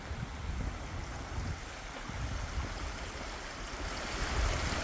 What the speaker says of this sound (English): I don't know if this is a seasonal creek or a year-round creek.